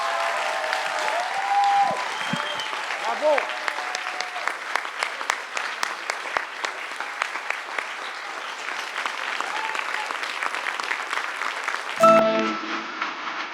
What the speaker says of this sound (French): Les voici, les voilà, on les applaudit